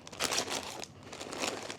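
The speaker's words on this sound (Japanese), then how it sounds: "でもその他こんなビニール袋は結構持ってきてますね。" Plastic bags crinkle and rustle while a suitcase is packed for a trip, close and moderately loud in two bursts of handling with a short pause between.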